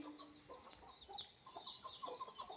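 A brooding hen sitting on eggs for chicks gives soft, repeated clucks amid faint chirping and farmyard ambience, quiet and fairly distant, with no talking.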